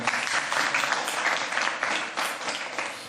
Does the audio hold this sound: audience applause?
yes